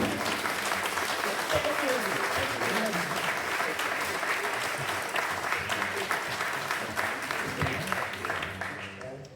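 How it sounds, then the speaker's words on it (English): A lecture audience gives a warm, sustained round of applause after a talk, dense even clapping that holds steady and then begins to taper at the end, with a few murmurs in the room. "can we please give a warm round of applause for Dr. Tan?"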